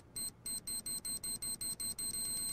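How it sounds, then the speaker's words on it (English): Rapid electronic beeping, a high-pitched tone pulsing in quick regular bursts that blur into a continuous tone near the end. "No, it's like a beeping."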